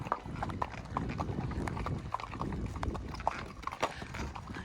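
Horse hooves clip-clop steadily on bare rock along an Arizona desert trail, a continuous close walking rhythm of hard strikes with no talk.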